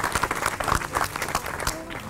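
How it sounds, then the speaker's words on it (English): Audience applause at a public meeting honoring a parks department worker, individual claps standing out in an irregular crowd patter, with voices mixed in. "So let's give Travis a round of applause."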